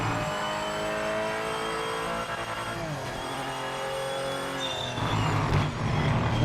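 A race car engine in the Project Motor Racing video game revs hard and steadily, dips as revs fall around a gear change, then surges again with rougher, louder noise toward the end.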